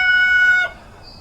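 A rooster crows close by with a bright harmonic call, the single crow cutting off after about half a second and leaving a quiet outdoor background, in Clackamas County, Oregon during the wildfires.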